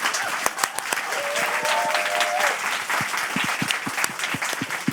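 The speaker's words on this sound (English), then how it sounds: "So please give a huge round of applause to our panel." Audience applause for a panel at a Pride question-time event in Norwich, steady clapping from a sizeable crowd throughout, with a few individual claps standing out near the end.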